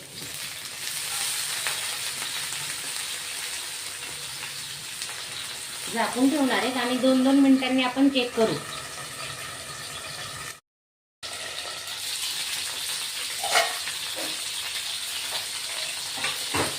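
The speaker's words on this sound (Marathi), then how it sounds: "थोडासा पाण्याचा हपका मारणार आहे." Stuffed green chillies sizzle and fry in a pan, with a louder hiss and bubbling burst for a couple of seconds after water is sprinkled, then a steady frying crackle under a voice talking throughout.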